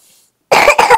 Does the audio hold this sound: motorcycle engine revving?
no